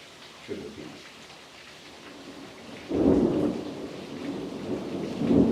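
Steady rain patters down, joined by low rumbling bursts that swell and fade, loud and close throughout.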